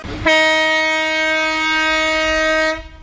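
A loud, sustained train horn blasts for a couple of seconds at a steady pitch, then cuts off abruptly.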